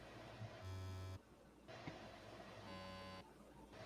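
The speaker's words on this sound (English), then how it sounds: "It's like there's this weird beeping going on in the background." Faint intermittent beeping in a background, tonal bursts switching on and off in a repeating pattern over a low hum during a live stream.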